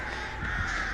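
Crows cawing in a video game, the birds summoned by the Artist killer, a harsh continuous caw close and prominent over a steady background drone.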